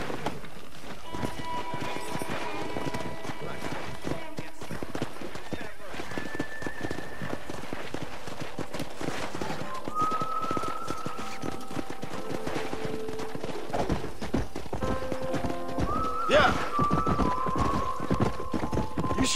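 Hooves clip-clop in a quick galloping rhythm as horses run in the Red Dead Redemption game, with whinnies and a high neigh later on, under ongoing talk and game ambience.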